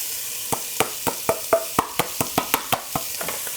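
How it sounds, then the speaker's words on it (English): Onions and the whites of green onions sauté in a pot, with a low sizzle under a regular series of sharp spoon scrapes and taps, about a dozen strokes, close and loud. "now we're going to saute the onions, garlic, and ginger"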